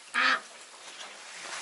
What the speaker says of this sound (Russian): Утки-то тоже радуются, смотри. В этом сене купаются.